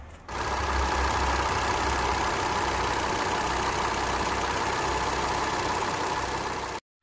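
A 2.5-litre five-cylinder Volvo engine in a 2009 Ford Mondeo 2.5T idling steadily with a low, even rumble, close by and loud, running alone until it cuts off near the end.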